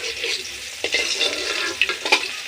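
Spice paste sautéed in a pan for a bitter gourd and catla fish dish, a close sizzling hiss broken by scraping stirs of the spatula, moderately loud, no voices.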